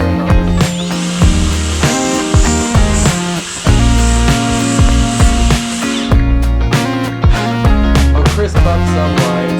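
A power finger sander works over carved wood sign letters, whining steadily close by with a high tonal buzz, stopping and restarting in short bursts toward the end.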